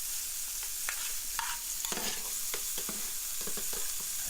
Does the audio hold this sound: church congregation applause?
no